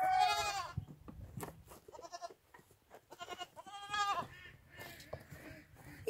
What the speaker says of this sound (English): Over here we see some goats.